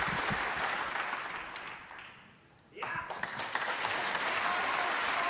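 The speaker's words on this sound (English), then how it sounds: "for the Ruhr roar from the crowd." A snooker crowd at the Ruhr Open applauding steadily, fading into a brief lull and then breaking into renewed loud clapping and a roar.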